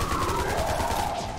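Continuous gunfire in the zombie-survival mobile MMO Garena Undawn, a dense steady rattle of shots close up with a high whine running underneath and no talking.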